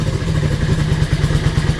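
A motorcycle engine fitted with Mikuni velocity stacks and a crankcase breather idles after a re-jet, a loud, steady, rapid low thumping pulse with no break.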